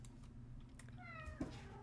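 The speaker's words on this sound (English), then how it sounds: "that was the cat being kind of weird" A domestic cat gives a single short, slightly odd meow near the end, heard close over a steady low indoor hum with a faint tapping like keyboard keys.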